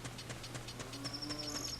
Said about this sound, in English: Everyone watch out for the moo cow.